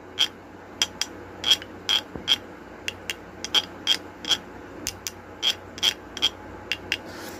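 Guiro, a fish-shaped Latin American percussion instrument, scraped in short ratcheting strokes, about a dozen evenly spaced rasps close up with quiet gaps between.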